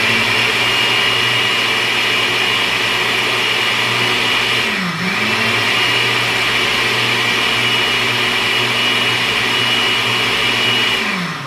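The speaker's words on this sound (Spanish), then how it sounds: "ya esta es la última licuadora." A countertop blender whirs steadily and loudly, blending the last batch of sansón for meals. The motor pitch dips briefly midway, then recovers. No one speaks.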